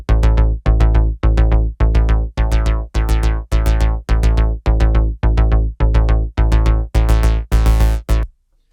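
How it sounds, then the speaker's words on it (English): Classic Moog synthesizer bass in a synthwave backing track, a loud, deep, buzzy tone pulsing in an even repeating pattern of short notes, its filter cutoff and emphasis sweeping and brightening toward the end, with no voices. "So that is a classic Moog sound."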